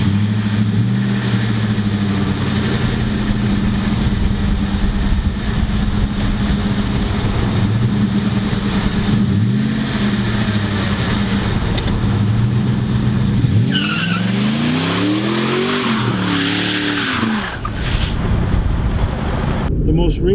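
A car engine runs steadily with a low rumble, then revs up and pulls away as the engine note rises and sweeps through gear changes, with a voice talking over it.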